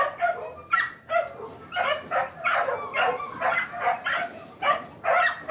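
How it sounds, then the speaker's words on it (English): Puppies in a shelter kennel at a humane society bark and whimper in quick, repeated bursts, close and fairly loud, one yelp after another with short gaps and no talk over them. "We've got plenty of puppies over on this side."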